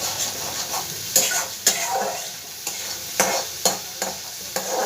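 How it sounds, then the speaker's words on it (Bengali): Spice paste with mustard fries in oil in a pan for prawn and taro-stolon curry, a soft steady sizzle broken by several sharp spatula scrapes and knocks, no talking. "ভালো করে মশলাটা আমি একটু ভেজে নেব।"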